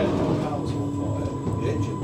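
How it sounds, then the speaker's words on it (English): A train on the Isle of Wight rumbles along a bumpy track, with a steady low roll from inside the carriage, faint rattles and a thin tonal whine. "Goodness, these trains are bumpy."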